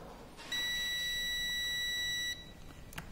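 A multimeter on continuity test against car hazard and turn signal wiring gives a single steady high beep lasting nearly two seconds, clear over a quiet background.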